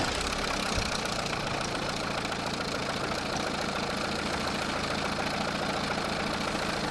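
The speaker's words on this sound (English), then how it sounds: "So the engine is running." A MINI R56 diesel engine idling roughly, a constant loud rumbling clatter with an uneven knocking texture, close by and continuous without pause.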